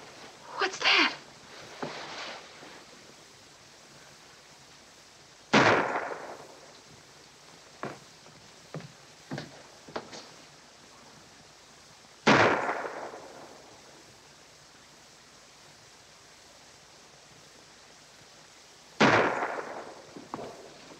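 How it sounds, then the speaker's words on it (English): Target-practice gunshots near a castle in a 1948 film: three loud, sharp bangs spaced several seconds apart, each with a short decaying echo, with fainter knocks and brief sounds in between. "when those shots were fired"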